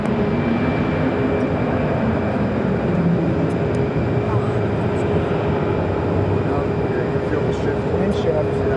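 An airliner taking off from runway 7 left at Phoenix Sky Harbor, heard as a loud, steady broadband engine roar that stays constant throughout.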